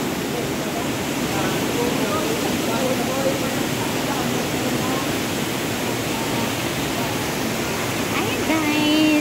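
Mountain water stream flowing at a resort picnic spot, a steady, broad rushing wash up close, with people talking over it.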